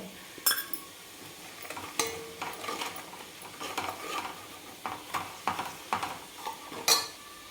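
Black chili powder and turmeric frying in oil for a village-style mutton curry, a soft sizzle broken by repeated sharp scrapes and clinks of a spoon stirring against the pan, close and without talk.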